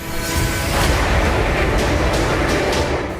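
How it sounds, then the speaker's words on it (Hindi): A missile strike on a weapons depot sends out a massive sustained roar of blast and rumble, loud and dense throughout, with sharper cracks riding over the low boom. "धमाके की आवाज इतनी तेज है कि वीडियो बनाने वाला शख्स डरकर शेल्टर के नीचे चला जाता है"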